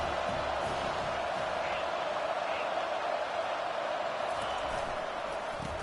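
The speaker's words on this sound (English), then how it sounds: "Decibels rising as the crowd gets behind this defense on 3rd down" A football stadium crowd at a UNC game on third down, a steady broad roar that swells as the fans get behind the defense, heard at a distance and with no clear individual voices.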